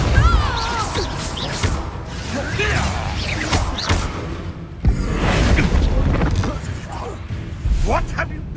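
The Depulso spell goes off during a Hogwarts Legacy combat encounter with heavy whooshing blasts, booms and crashing impacts, and voices are shouted over the chaotic fight.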